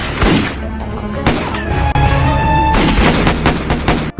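Loud, close gunfire rings out in a film shootout among three men: a few sharp shots with echoing tails, separated by brief pauses.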